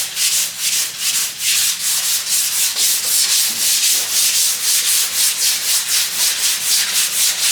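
A sanding block rubs back and forth over a low spot in polyester primer, loud and close, in a fast, even rhythm of repeated scratchy strokes.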